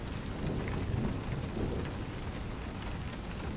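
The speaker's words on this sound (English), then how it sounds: "The occasional roll of thunder and a gentle breeze." Steady heavy rain pours across a thunderstorm while low rolling thunder rumbles underneath, a dense continuous wash with no voices.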